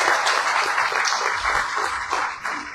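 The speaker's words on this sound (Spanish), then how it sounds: "Dele el aplauso al Señor." Church congregation during a sermon applauding, a loud, dense and steady round of clapping that continues evenly throughout.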